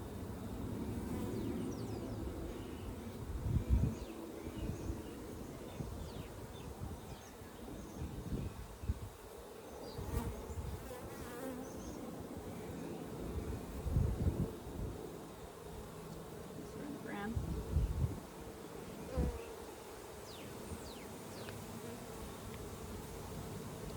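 Honeybees at an open hive frame make a dense, steady buzz, close and moderately quiet, with individual bees droning louder as they pass near.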